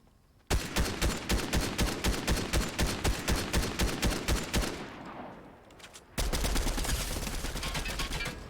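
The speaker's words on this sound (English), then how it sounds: "Who is shooting at me?" Rapid automatic gunfire in Fortnite, a long run of evenly spaced loud shots that slows and fades, a brief lull, then another heavy burst of firing, with no talking.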